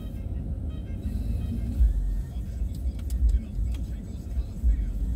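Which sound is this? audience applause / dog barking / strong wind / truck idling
truck idling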